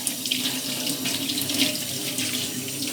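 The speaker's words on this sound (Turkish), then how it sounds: "Bir adet havucu soydum. Yıkıyorum." Tap water runs steadily into a kitchen sink while a peeled carrot is rinsed for red lentil soup, a close, even splashing hiss with small changes where the carrot breaks the stream.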